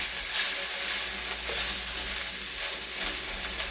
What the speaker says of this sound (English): now that our oil is hot, we're going to go ahead and add our peppers